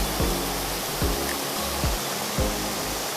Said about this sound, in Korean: 등선대에서 15분 정도 내려오면 만날 수 있는 등선 폭포입니다.